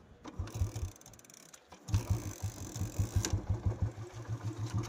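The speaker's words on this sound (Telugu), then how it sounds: "కిక్ కొట్టేసి స్టార్ట్ చేస్తాను" A 2018 Royal Enfield Classic 350 (BS4) single-cylinder motorcycle engine kick-started after a sputtering first attempt, then settling into a steady, rhythmic thumping idle close by.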